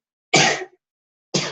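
Two sharp, explosive sneezes close to the mic, about a second apart, the second cut off at the end, with silence between them.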